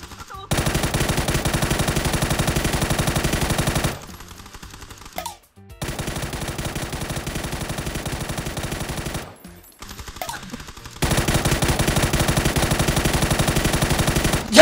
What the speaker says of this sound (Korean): 여기서 120발 쏘고 뒤로 가서 흰선에 앉아 쏘는 거야